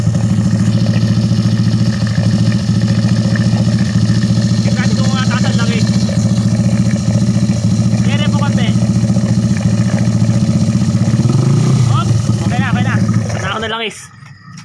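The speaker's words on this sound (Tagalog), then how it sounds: "Push starter, kick starter." A Honda XRM 110 motorcycle with a reset, port 6.8 carburetor setup runs loud and steady at close range, with occasional revs, before cutting off near the end. Voices talk briefly over the engine.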